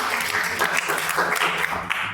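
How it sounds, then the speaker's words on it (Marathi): Schoolchildren in a classroom applaud a classmate with a dense, steady burst of clapping that carries on at an even level for about two seconds. "शाबास, टाळ्या वाजवा याच्यासाठी"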